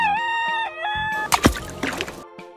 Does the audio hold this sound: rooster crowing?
yes